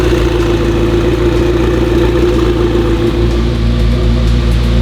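A Ferrari engine runs at a steady idle nearby, a loud, even mechanical hum with a low throbbing tone that holds without change and no one talking.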